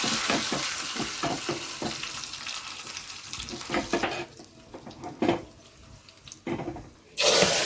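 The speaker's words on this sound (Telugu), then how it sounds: "ఎండుమిర్చి కూడా ఫ్రై అయిపోయింది, కరివేపాకు వేసేస్తున్నాను." Curry leaves and dried red chillies sputter in hot oil for a dal tempering, crackling loudly and densely at first, then thinning into scattered pops and scrapes of a spoon against the pan, with a final loud burst of sizzle.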